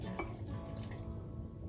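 Water splashes and trickles into a blender for a papaya banana smoothie, a short close pour with a faint dripping tail and no talking.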